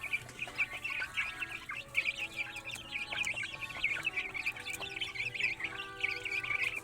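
Backyard chickens cluck steadily and close by, a busy flock calling over one another with overlapping clucks and short calls for the whole stretch, and no voices in between.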